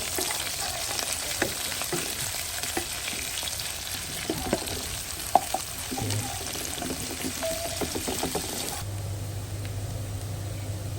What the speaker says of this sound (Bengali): পেঁয়াজটাও সামান্য একটু ভেজে নেওয়া হবে।